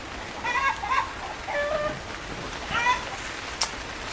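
Steady light rain hiss over an allotment garden, with several short bird chirps rising above it in the first three seconds and a brief sharp tick near the end; no one speaks.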